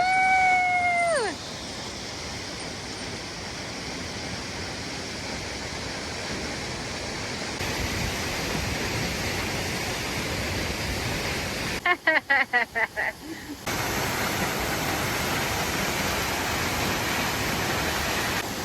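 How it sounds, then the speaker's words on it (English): Steady rushing water from a waterfall beneath a rickety bridge fills the scene with broadband roar, joined by whistles and excited shouting from people crossing, plus brief bursts of handling noise partway through. "Rickety bridge. Waterfall underneath."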